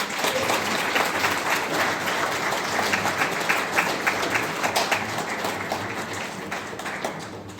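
Guests at a wedding ceremony in Ambikapur clap together in a sustained round of applause, close and fairly loud, gradually thinning toward the end.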